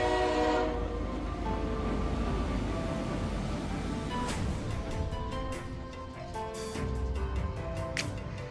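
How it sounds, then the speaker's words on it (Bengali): An Indian intercity express pulls into Howrah station, first as a loud steady rumble, then with horn blasts and a rhythmic clatter of wheels as the carriages roll past close by. "এই যে আমাদের ট্রেন ঢুকছে।"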